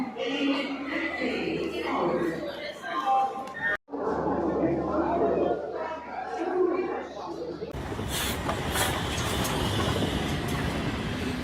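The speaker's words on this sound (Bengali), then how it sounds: "আর এই জায়গা দিয়ে প্রতিদিন ছুটে চলে বিভিন্ন ট্রেন" A train runs along a railway line near Somra Bazar. People talk over a low rumble at first, then loud broadband rushing and clattering of passing carriages takes over for the last few seconds.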